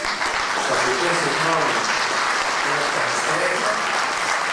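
Loud, sustained applause from an audience after a speech, dense and even throughout, with faint voices speaking underneath.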